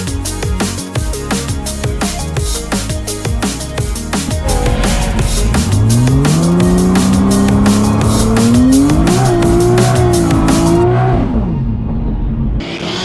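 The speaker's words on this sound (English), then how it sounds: "That's a fat burnout." A 1000HP+ Nissan R33 GTST does a burnout, the engine screaming at high revs as squealing tyres rise and fall in pitch, loud and close throughout before cutting off near the end.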